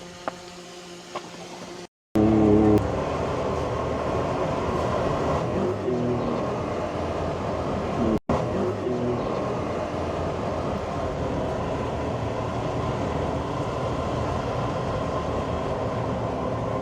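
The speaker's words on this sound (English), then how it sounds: "So gentlemen, start your engines." The engines of a 6-wheel Krushila vehicle, one electric and one gasoline, rumble steadily and loudly with a continuous droning roar after a brief quieter start; no speech.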